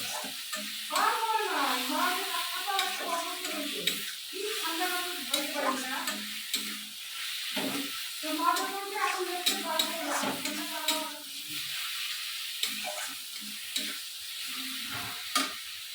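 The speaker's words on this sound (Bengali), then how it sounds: "মশলাটা একটু লাল লাল করে ভালো করে ফ্রাই করতে হবে।" Spice paste for duck curry fries in a pan and is stirred, a continuous close sizzle with scraping strokes running throughout, and a voice talking over it for much of the time.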